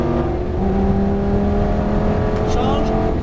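A Lamborghini Gallardo engine roars loud and close on the Nogaro circuit, holding a steady drone that climbs in pitch as it revs, while a coach talks over it.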